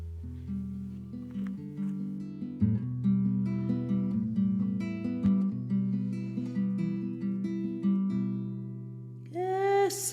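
Recorded song setting a poem to music, played back with a plodding, repeated low tonal melody and sustained notes in a steady rhythm, moderately quiet, with a brief bright vocal-like flourish near the end.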